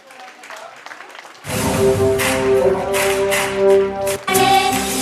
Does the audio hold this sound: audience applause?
yes